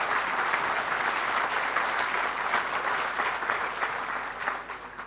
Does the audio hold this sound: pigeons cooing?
no